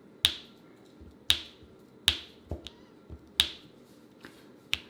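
Diamond painting pen from Diamond Art Club popping sharply as drills are placed on the canvas, about six crisp snaps at uneven intervals, close and clear with nothing else around.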